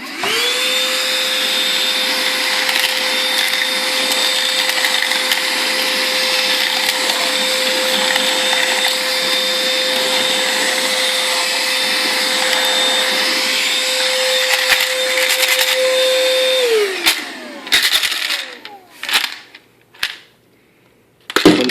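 Bosch VAC120BN cordless vacuum running at a steady loud whine while picking up nuts, washers and nails, with small metal pieces rattling and clattering through the nozzle, then the motor winds down and scattered knocks and handling noises follow.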